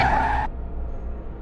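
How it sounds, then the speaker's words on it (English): A car skids in a storm, a brief loud tire screech that cuts off abruptly and gives way to a low rumbling wash of rain and engine noise. "The crash came quick."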